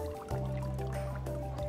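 Liquid fertilizer drips and trickles into a gallon-bottle planter of water spinach, with a wet gurgling fill sound and a couple of distinct drip onsets over a steady low hum.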